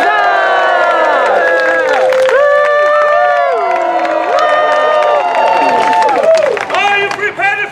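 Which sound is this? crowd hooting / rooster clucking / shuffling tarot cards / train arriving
crowd hooting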